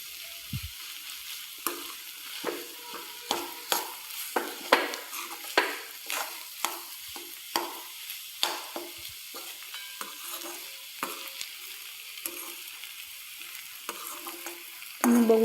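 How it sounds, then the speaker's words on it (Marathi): Fenugreek leaf thecha being sautéed in a pan, a soft low sizzle under repeated rhythmic spatula scrapes and taps against the pan, close and unaccompanied by speech. "आपण याला छानपैकी असं परतवून घेत आहोत"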